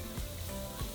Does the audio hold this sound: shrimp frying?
yes